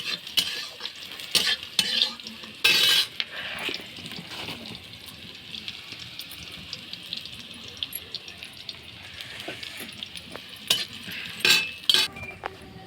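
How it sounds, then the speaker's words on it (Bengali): Onion and green chilli stir-fry in mustard oil, a constant sizzle broken by scraping spatula strokes and clinks against the pan, sharpest near the start and again toward the end, with no speech over it. "এখানে পেঁয়াজ, কাঁচা লঙ্কা, সর্ষের তেল দিয়ে দিলাম। 2 মিনিট নাড়াচাড়া করে"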